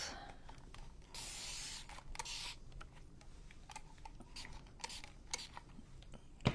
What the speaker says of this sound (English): Just gonna spray our palette.